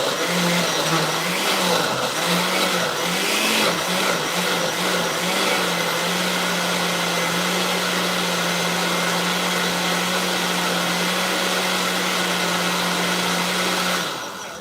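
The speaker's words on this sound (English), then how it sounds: "I think it's the oyster blender." An Oster blender runs in a home kitchen, a loud steady motor whine that wavers in pitch early on, then settles into an even drone before cutting off near the end.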